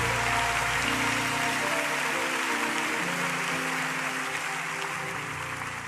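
A church congregation claps during a worship service, a loud, dense, continuous wall of applause with music faintly underneath that carries steadily throughout.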